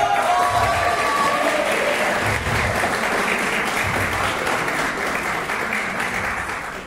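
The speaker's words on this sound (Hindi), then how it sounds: "दुनियाँ तिमीहरूको लागि यस्तै लगातार ताली मारोस्" Sustained audience applause fills the whole stretch, a dense steady clatter of many hands clapping at a motivational talk for bachelor students, loud and close, slowly tapering near the end.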